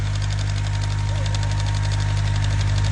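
An engine-driven 6-inch water pump runs continuously with a loud, steady, rapid knocking chug and a low mechanical hum, and no voices.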